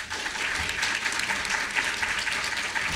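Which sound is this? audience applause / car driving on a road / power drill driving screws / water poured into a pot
audience applause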